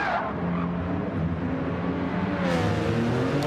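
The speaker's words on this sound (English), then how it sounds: "he's lit the tyres up again, trying to get this thing going" A race car in a sim racing game spins its wheels, giving a steady, loud engine whine and tyre noise that rises in pitch partway through, with commentary voices underneath.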